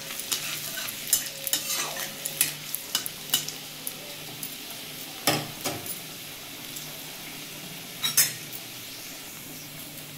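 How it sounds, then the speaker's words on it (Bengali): Chopped garlic sizzles in a hot pan for a vegetable masoor dal, with a steady fry under repeated clinks and scrapes of a spoon stirring against the metal, close and moderately loud, no talk. "সেই রসুনটাও দিয়ে দেবো, দিয়ে একটু ভেজে নেবো রসুনটা"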